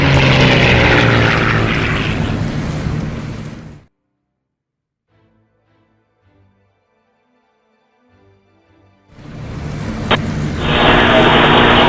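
A propeller airplane engine from a video game drones loudly in flight, cuts out to near silence for several seconds, then returns at full volume.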